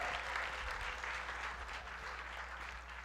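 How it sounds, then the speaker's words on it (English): Audience applause at a PechaKucha Night presentation event, a continuous faint wash of many hands clapping from a crowd, steady throughout with no talk. "Can we give him a round of applause?"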